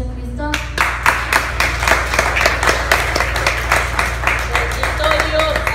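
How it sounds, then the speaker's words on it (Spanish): Church congregation clapping steadily and loudly at a Spanish-language Christian service, with strong rhythmic claps over a low hum and a voice heard at the start. "Denle un fuerte aplauso a Cristo."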